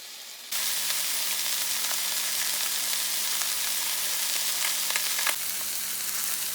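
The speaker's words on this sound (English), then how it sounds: "it's only going to take this fish just about a minute and a half per side" Catfish and striper fillets fry in a skillet, a sizzle that starts abruptly and then holds as a loud, continuous hiss with faint crackles throughout, with no one speaking.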